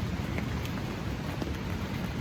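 Rain falls steadily on a tent pitched beside a river during a big August flood in Maine, a dense, even patter close overhead with no voices.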